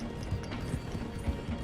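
Horse hooves galloping in the Red Dead Redemption 2 video game, a steady, fairly loud rhythmic clatter of hoofbeats running throughout with no talk over it.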